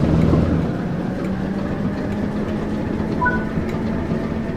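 A Great Western Express train in Train Sim World 3 begins to move under throttle, a steady low rumble of traction motors and rolling stock with a faint rising tone.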